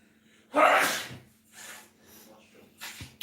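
A loud, close sneeze bursts out once, followed by softer breathy sniffs and shuffling.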